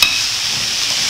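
Sweet peppers stirred with tomatoes in a pot, a short close hissing sizzle with a spoon scraping through, heard alone.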